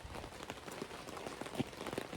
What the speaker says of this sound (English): It's raining. The storm is coming through.